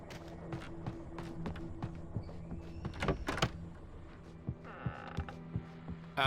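An old door in a video game groans with a drawn-out creak among scattered footsteps and mechanical clicks, close and quiet, ending on a sharper squeak.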